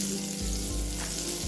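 Butter and a spoonful or two of oil heat in a pan for chicken malai tikka, giving a continuous close sizzle with a few soft low bumps as the pan is moved.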